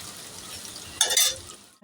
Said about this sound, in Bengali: দেখো লাল লাল হয়ে ভাজা হয়ে গেছে।